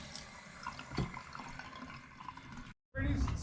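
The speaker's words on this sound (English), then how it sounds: "I'm gonna go ahead and turn on all the faucets." Water running from faucets opened in a house during a plumber's visit to replace a water heater supply line, a steady splashing flow that cuts out briefly near the end and returns louder.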